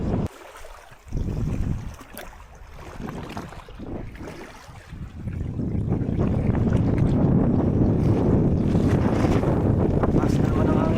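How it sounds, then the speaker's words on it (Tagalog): Strong wind buffets an open boat at sea during a fishing outing, a loud steady rush that builds and holds over the second half with no talk. "Mas na naman ang hangin."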